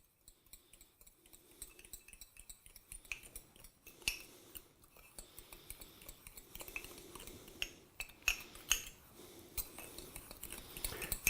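Sugar and cinnamon being mixed in a bowl, heard as quiet, irregular clinks and scrapes of a utensil against the dish that recur over several seconds, soft and close.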